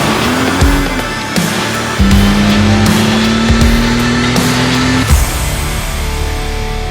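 A Mercedes SL65 AMG runs on a dyno, its engine a loud, dense mechanical drone whose pitch climbs and shifts through several steps with brief dips between, then settles into a steady roar.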